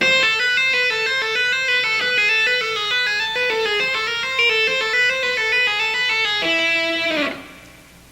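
A fast shred-style electric guitar lick played with right-hand tapping, bright rapid cascading notes running continuously for about seven seconds before ringing out and fading.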